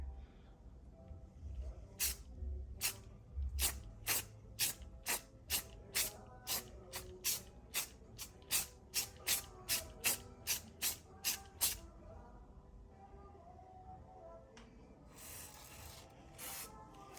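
Gloss purple spray paint goes onto glass in a rapid series of short, sharp aerosol bursts, about twenty of them in a steady rhythm. A couple of longer hisses follow, with no talk.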